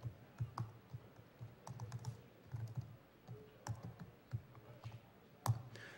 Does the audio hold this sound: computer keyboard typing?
yes